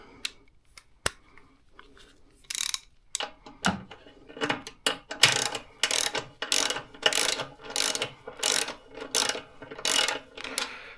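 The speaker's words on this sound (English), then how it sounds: "So ratchet that a little bit." A ratchet wrench tightens the skid plate bolts on a 2024 Suzuki DR650, its pawl clicking in close, loud bursts of rapid ratcheting strokes with brief pauses between them.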